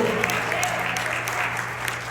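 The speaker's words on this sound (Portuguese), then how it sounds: "Se aplauda Jesus com alegria." Steady applause from a church congregation, continuous and fairly loud throughout, with a faint hum underneath.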